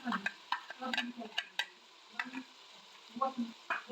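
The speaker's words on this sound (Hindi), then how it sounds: "अब इसमें मैं डालूंगी लहसुन अदरक और सब्ज मिर्ची का पेस्ट" Chicken fries in a pan with garlic, ginger and green chili paste, giving a quiet sizzle broken by scraping and clinking as it is stirred, close by and fairly soft.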